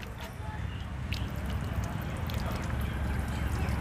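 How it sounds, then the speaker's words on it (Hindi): Water drips and trickles steadily off a ceramic-coated car panel treated with Wavex Hydromax ceramic spray, a close, continuous wet patter with no talk. "ये तुरंत पानी नीचे की तरफ गिर जा रहा है"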